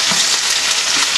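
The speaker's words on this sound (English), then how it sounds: "So I like to give it some color, so I'm going to saute it in here." Food sautés in a hot pan in a loud, dense, continuous sizzle that is close and brief, with no pause.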